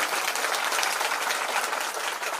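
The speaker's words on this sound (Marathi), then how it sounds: "वाजवा जरा टाळी वाजवा" Audience at a Marathi kirtan breaks into steady, dense applause, loud and continuous throughout with no gaps.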